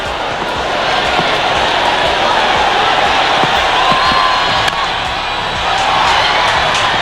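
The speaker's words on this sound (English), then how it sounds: "I don't know where the crowd's coming onto the field." A West Indies cricket crowd invading the ground fills the scene with a loud, steady roar of many voices, shouting and cheering without a break throughout.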